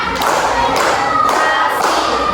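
A classroom of students clapping in unison during an Indonesian clap-count rhythm game, with a few sharp, evenly spaced bursts of group claps, loud and close.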